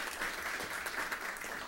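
An audience applauds the rector of Universidad Veracruzana at a formal panel event, a steady dense wash of many hands clapping that runs unbroken through the whole clip.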